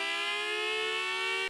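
An electromechanical tornado siren, its electric motor spinning a chopper fast, holds a loud, steady, rich-toned wail that breaks off abruptly at the end.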